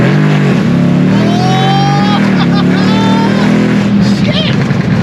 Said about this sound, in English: Did you hear the pops?